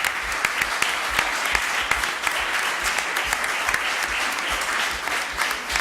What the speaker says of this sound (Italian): in particolare io vorrei ringraziare e un applauso a Roberto Girotto